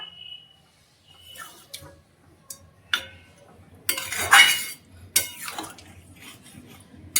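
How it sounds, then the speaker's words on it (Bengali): Garam masala is stirred into an egg curry in a pan with green chillies, making scattered close clinks and scraping strokes of a utensil against metal, with quiet gaps between. "গরম মশলাটা যাতে মিশে যায় সেই জন্য আমি ভালো করে নাড়িয়ে নিচ্ছি"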